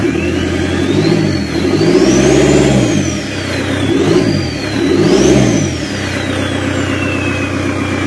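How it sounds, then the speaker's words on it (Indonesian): A Kia Carnival diesel engine revs, rising and falling in pitch with a high turbo whine sweeping above it, steady and close, with no voices. "Ini suara turbonya."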